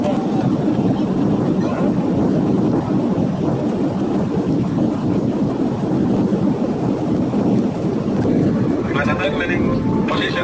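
Inside the cabin of an Express Air Boeing 737-800 landing at Samarinda, a loud, steady, broadband roar of engine and airflow noise fills the whole stretch, with a faint voice or announcement underneath.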